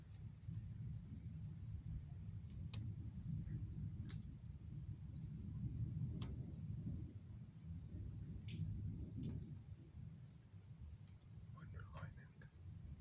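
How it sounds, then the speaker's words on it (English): Low thunder rumbles continuously through an outdoor lightning storm, a steady deep drone with a few faint crackles and taps scattered over it, no clear voices. "Look at that, all that thunder and lightning."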